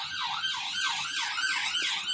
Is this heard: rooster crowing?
no